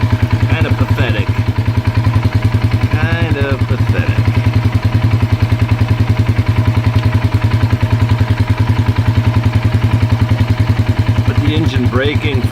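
A Polaris 570 ATV engine idles close by in a steady rapid low thrum with clattery mechanical texture, while people talk over it at intervals.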